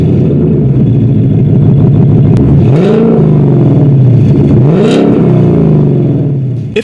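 Ford Mustang V8 fitted with a resonator delete and X-pipe exhaust, revving hard in loud repeated sweeps that climb and fall back, with a steady rumbling idle between blips.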